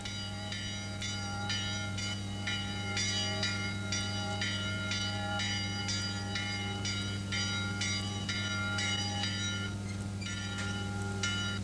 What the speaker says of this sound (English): At around 5 p.m. the Eastern Bell Tower summons the monks and novices for daily sunset prayers.